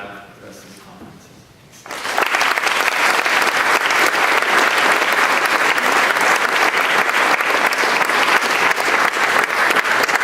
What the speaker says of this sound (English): So just one more big round of applause for Kathy and Dave.